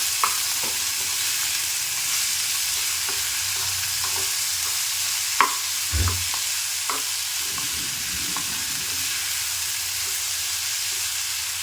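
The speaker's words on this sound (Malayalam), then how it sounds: "നമ്മുടെ വേവിച്ച് വെച്ചിരിക്കുന്ന കായ ചേർക്കാം നന്നായി ഒന്ന് മിക്സ് ചെയ്യാം" Cooked plantain being stirred into a sautéed mixture in a pan, with a steady frying sizzle and a few soft scrapes and knocks of a spoon, near and moderately loud.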